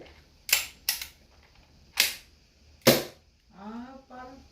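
Four sharp, loud cracks from a toy blaster gun firing single-action shots, irregularly spaced, followed by brief voices talking nearby.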